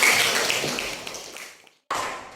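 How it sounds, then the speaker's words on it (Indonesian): Classroom students applauding during a chemistry lesson on food preservatives: a dense wash of clapping that fades, drops out briefly, then returns just as full. "Tepuk tangan."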